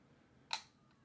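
SimpliSafe security camera shutter flicking open: a single brief mechanical click, close and crisp, in an otherwise quiet room.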